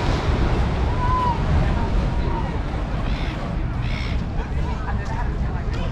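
Wind and surf at Coogee Beach in Sydney, a steady loud roar of waves and gusting wind buffeting the microphone throughout, with a few faint voices in the background.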